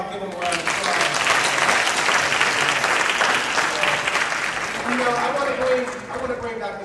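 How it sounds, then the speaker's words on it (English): A large audience applauds a former New Orleans mayor introduced as a friend and mentor at a financial event. Dense, steady clapping fills the room for several seconds before thinning, with voices faintly under it. "Buck Royale, give him a round of applause."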